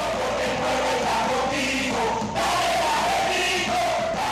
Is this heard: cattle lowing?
no